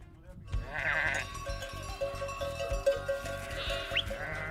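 A flock of about 80 sheep in Çaykara, Turkey, is being herded back to the pen in the evening. Repeated bleats rise over a steady, busy background.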